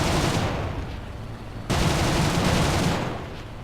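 Bf 109 G2 fighter cannons firing in War Thunder, a loud, dense continuous burst of gunfire with a brief drop in intensity midway before it resumes.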